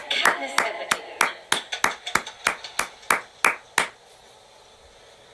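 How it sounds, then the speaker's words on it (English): Hands clap slowly and sharply, about fourteen separate, crisp claps at an uneven steady pace. They sound like a sparse few people rather than a full crowd and stop well before the end, leaving near silence. "Let's have a big hand for our very first volunteer, Katniss Everdeen."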